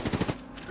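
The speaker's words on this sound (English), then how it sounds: "Getting shot at." Automatic gunfire in Apex Legends, four rapid loud shots in a tight burst followed by a fading tail.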